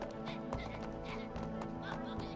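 Horses gallop with steady clip-clop hoofbeats and an occasional whinny in the co-op video game It Takes Two, played continuously under a moderately loud game soundtrack.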